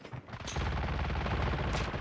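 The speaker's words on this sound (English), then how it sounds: "he just hears all these gunshots around him" Dense, continuous gunfire from the Call of Duty Mobile battle royale mode, loud bursts overlapping with no pauses, followed by a sharp higher crack near the end.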